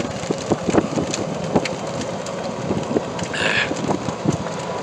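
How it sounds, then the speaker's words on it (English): Heavy rain pours during a thunderstorm, hammering a car from inside with water coming through the windshield, a steady dense roar with scattered sharp drop impacts throughout. "Holy shite, the rain's coming through the windshield."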